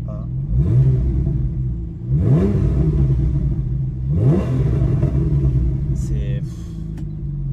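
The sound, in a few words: Porsche flat-six engine revving, PDK gearbox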